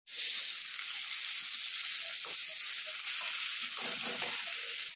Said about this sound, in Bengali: এখানে কালো জিরে দিয়ে আলুটা ভেজে নিচ্ছি